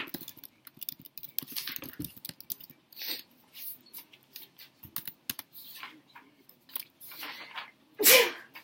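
Scattered soft clicks and tapping, then one sharp, loud sneeze bursting out near the end.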